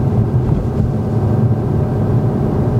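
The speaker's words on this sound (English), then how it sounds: "Listen to that engine, Erin." A car engine hums steadily from inside the cabin during a driving lesson, a low continuous rumble with faint road noise and no talking.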